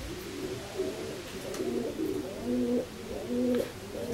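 Racing pigeons in a pigeon loft coo repeatedly in soft, rhythmic rolling phrases, close to the microphone, with a few faint clicks and no talking.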